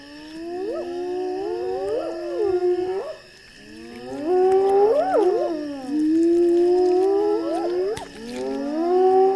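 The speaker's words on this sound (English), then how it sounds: "Their wailing chorus attracts reinforcements." Spotted hyenas give a wailing, whooping chorus near a lion kill: several rising, sliding howls overlap in close succession, loud and nearby, with a brief lull before the calls resume.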